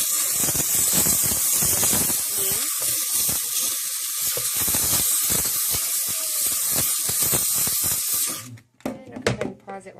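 A McCulloch MC1385 canister steam cleaner gives a steady, loud hiss of spraying steam for about eight seconds with scrubbing and knocking sounds underneath, then cuts off, leaving brief handling noises.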